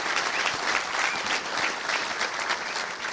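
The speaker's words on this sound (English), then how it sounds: "let's give a round of applause for Mac Brown" Sustained applause from a club luncheon crowd honoring Mack Brown at the Little Rock Touchdown Club, dense steady clapping filling the room at even loudness throughout with no talk over it.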